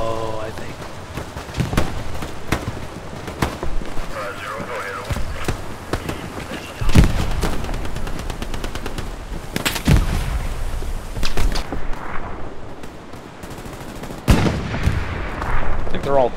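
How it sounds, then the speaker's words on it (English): A WWII shooter battle on Utah Beach, with sharp gunfire, bursts of machine-gun fire and several heavy booming impacts from artillery and explosions, loud and close, crackling almost without pause, while players talk over it. "Careful of the artillery"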